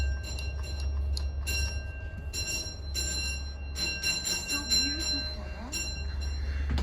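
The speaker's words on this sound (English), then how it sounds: "There's another stop requested bell." A stop-request bell on a railway car on a rare-mileage trip dings repeatedly in short bright strikes over the low, steady rumble of the moving train.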